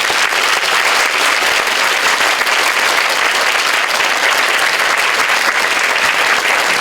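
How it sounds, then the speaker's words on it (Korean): University students in a lecture hall give a warm, sustained round of applause after a special lecture by a chairman, a loud, even roar of many hands clapping with no voices over it. "김우중 회장님께 뜨거운 박수 다시 한번 부탁드리겠습니다"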